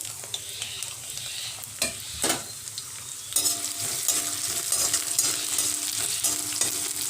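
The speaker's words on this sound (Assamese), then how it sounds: "এতিয়া তেলখিনি গৰম হৈ গ'ল আৰু এতিয়া মই পিঁয়াজখিনি ভাজি ল'ম" Onions and green chillies frying in hot oil in a wok, a steady close sizzle broken by the scrape and clatter of stirring, with no talk.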